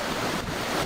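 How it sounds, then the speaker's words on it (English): Water rushes out during a hurricane's negative surge in southwest Florida, cutting a gully along the shore. It comes as a steady, loud roar of flowing water mixed with heavy wind buffeting and no voices. "There's the water running out and creating a gully."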